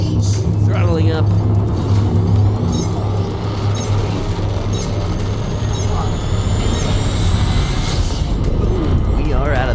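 A spaceship engine in the game Elite Dangerous throttles up into a loud, continuous roaring rumble with a rising whine, filling the whole stretch.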